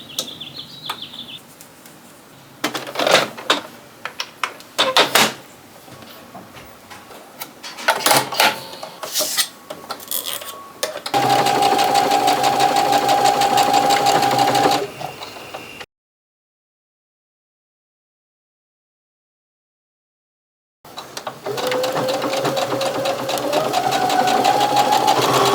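Sewing machine stitching the hem seam of shortened thick corduroy trousers: scattered clicks and handling noises first, then a steady, close whirring run of stitches, a silent pause, and another continuous stitching run.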